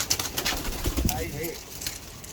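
Kabootar pigeons from a decades-old flock of high-flying birds give soft, low cooing close by, partly blended with background noise and brief bursts of activity.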